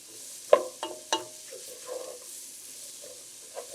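Vegetables including onions sautéing in a pan for chicken dumpling soup, with a few sharp clacks of a utensil stirring and scraping over a soft ongoing sizzle.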